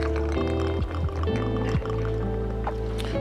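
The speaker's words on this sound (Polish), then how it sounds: "Mam tutaj szklankę, naleję 40 ml soul sour" Sour cocktail mix pours steadily into a glass, the pitch rising as it fills, with a few short splashes and clinks close by.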